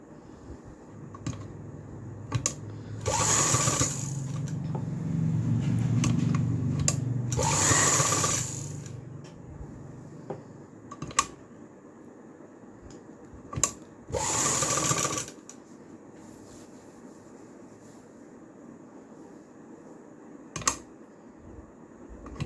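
A sewing machine stitches the belt of a salwar in three loud, sustained runs of whirring, separated by quiet gaps with light handling clicks and taps of fabric being adjusted.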